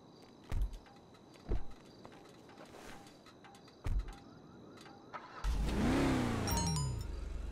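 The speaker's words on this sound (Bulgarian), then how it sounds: "Пък има и хубав звук, я да им как пали." An armored Rolls-Royce in GTA 5 has a few thuds and clicks, then its engine starts and revs loudly, rising and settling into a strong growl.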